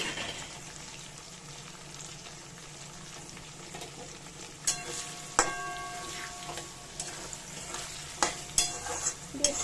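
Tomatoes and onions fry in a pan with a soft, constant sizzle, and a few sharp clinks of a spatula against the pan grow more frequent toward the end. No one talks.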